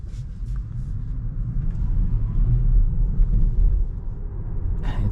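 A 2025 Tesla Model Y facelift drives at night, giving a low, steady road rumble and tyre roar from inside the cabin with a soft electric whine and no engine note.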